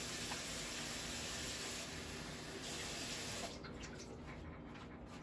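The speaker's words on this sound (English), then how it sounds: "And then we're gonna go in with our water." Cold tap water runs steadily into a cooking pot being filled for beans, a continuous hissing stream with no talk.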